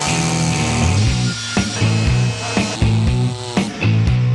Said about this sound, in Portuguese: A lógica do avanço da fronteira do desmatamento começa, obviamente, com uma personagem bem conhecida, a motosserra